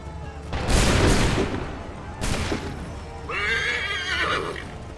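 Musket volleys crack out in Assassin's Creed III, two loud broadband bursts of massed gunfire a second or so apart, followed by a horse whinnying nearby.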